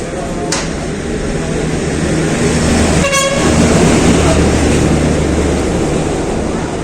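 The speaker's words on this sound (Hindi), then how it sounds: "हॉर्न था, हॉर्न बहुत तेज बजा, बहुत तेज बजा।" A single loud vehicle horn blares for about half a second, cutting through constant road and crowd noise with a low rumbling background.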